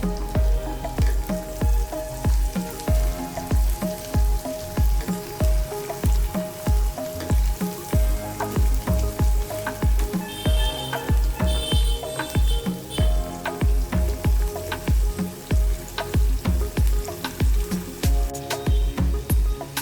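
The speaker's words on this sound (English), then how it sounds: "Onions are lightly sauteed, and now I will add this pork." Pork frying with lightly sauteed onions in a pan gives a dense, steady sizzle, with constant crackling pops running throughout at close range and no talk.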